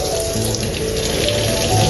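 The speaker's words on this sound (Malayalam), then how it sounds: "ഞാൻ വേണം വെള്ളം ഒഴിച്ച് വെച്ചാൽ" Water runs steadily from a tap into a wash basin stained with acid, a loud continuous splashing rush that fills the whole moment with no voices.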